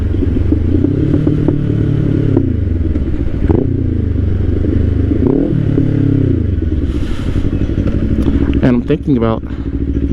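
A 2024 Kawasaki Ninja 500 KRT SE motorcycle rides steadily in first gear, its engine droning close and continuously with a few shifts in pitch, while someone talks over it throughout.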